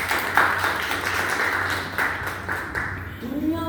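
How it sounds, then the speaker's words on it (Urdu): An audience breaks into scattered applause, with irregular claps rising and falling over several seconds against a room hum. "اپنے لیے تالیاں."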